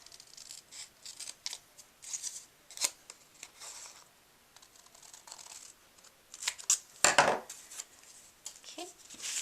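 Scissors snipping a turkey shape out of paper for a notepad, a scattering of quiet close crisp snips and paper rustles with one louder burst of crinkling near the end.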